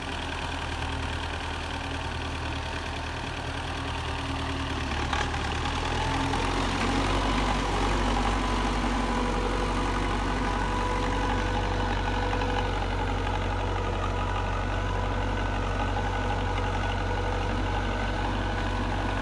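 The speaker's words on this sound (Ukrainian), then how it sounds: "Ось так працює дископлуг." A vintage MTZ-50 tractor pulling a Dan 2.5 disc plough through wet field soil gives off a steady, loud, low diesel drone with an even mechanical rumble under it, and nobody speaks.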